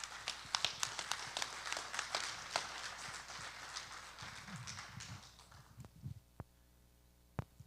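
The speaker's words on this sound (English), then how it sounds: "let's give her a round of applause" A small audience at a community outreach presentation about Clear Lake hitch gives steady applause that fades out after about five seconds, leaving a few scattered claps.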